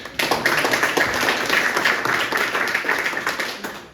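A church congregation applauds, a dense burst of many hands clapping together that holds steady and then tapers off toward the end.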